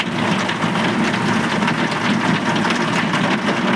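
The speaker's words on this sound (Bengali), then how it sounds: "আপনারা হয়তো বুঝতে পারছেন দেখে যে মুসুন্ধরা বৃষ্টি হচ্ছে" Torrential monsoon rain pours down in a steady, dense, loud roar with no letup, filling the whole stretch without any voices.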